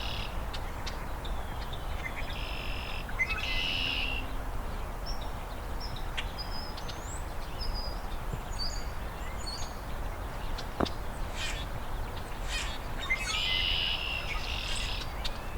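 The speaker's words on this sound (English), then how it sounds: "Both grackle and red-winged blackbird, actually, and European starlings are in here." Common grackles, red-winged blackbirds and European starlings give scattered chirps, squeaks and harsh calls at moderate distance over a steady insect drone, with bursts of louder chatter toward the middle and end.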